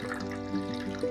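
Apple juice poured into a brisket marinade, a continuous close liquid stream with a bubbling, rising tone, fairly loud and without talking.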